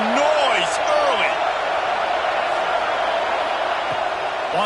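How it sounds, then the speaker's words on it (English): Stadium crowd noise from an American college football video game, Iowa versus UCLA, forms a loud, continuous roar with rising whoops and cheers, heard under a commentator's voice. "This crowd bringing the energy and noise early."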